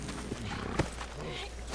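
Horse hooves in the Western video game Red Dead Online, a single sharp clop rising briefly over a steady, noisy game background.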